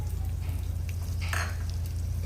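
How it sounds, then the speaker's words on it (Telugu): Toor dal frying in half a spoon of oil over a low flame, a continuous soft sizzle with a faint rise in crackle partway through, steady and unvoiced. "దీంట్లోకి మనము ఈ కందిపప్పును వేసుకొని ఫ్రై చేసుకోవాలి."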